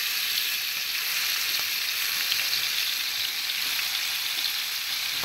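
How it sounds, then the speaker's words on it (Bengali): Fish fry in hot oil in a large frying pan, a dense, continuous sizzle that stays loud and even throughout, with faint crackles and no speech. "এখন আমি মাছগুলো দিয়ে দিতেছি গরম তেলের মধ্যে।"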